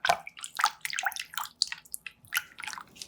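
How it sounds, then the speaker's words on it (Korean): Blanched oyster mushrooms, cooked in broccoli water, are dunked and handled in cold water, giving soft irregular drips, splashes and wet squishing sounds close up and fairly quiet, with no voices. "브로콜리 데친 물에 느타리 버섯을 넣고 골고루 저어 1분 정도 데친 후 찬물에 담가 식혀주세요"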